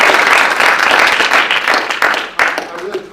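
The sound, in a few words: audience applause for the students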